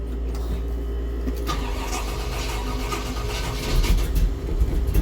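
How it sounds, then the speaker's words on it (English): A 1961 Ford F100 pickup engine cranks and then catches, settling into a rough, steady running rumble that swells louder near the end, heard close with no talking. "All right, let's fire this sucker up."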